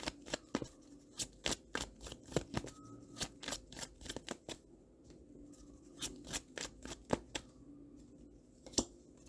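Tarot cards drawn and shuffled from a deck during a reading, a run of crisp, close card snaps and flicks in irregular clusters, alone without talk.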